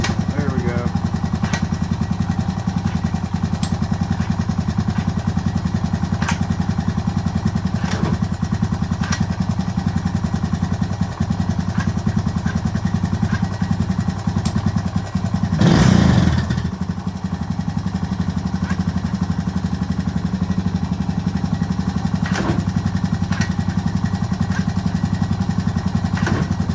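A cold Honda motorcycle fitted with an ES shift kit idles in neutral, a steady low engine rumble with regular ticks and one brief louder clunk midway, while someone talks over it.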